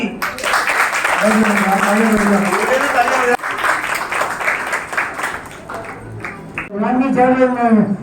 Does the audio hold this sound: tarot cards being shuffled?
no